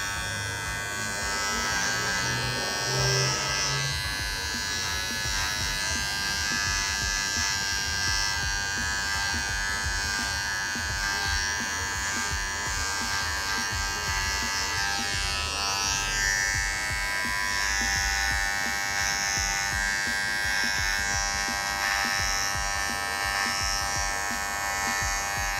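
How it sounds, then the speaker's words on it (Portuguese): An electric finishing trimmer buzzes steadily while outlining a short boxed beard, a close, continuous whirring hum with slight shifts in tone as it moves across the face. "eu gosto de limpar, deixar demarcadinho tudo certinho com a máquina de acabamento"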